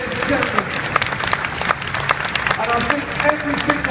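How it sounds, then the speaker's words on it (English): An audience claps steadily at a live motorsport action arena show, a dense, continuous wash of applause from a large crowd, with a voice over the PA talking through it. "I would love all of us to give Michael Schumacher a big round of applause"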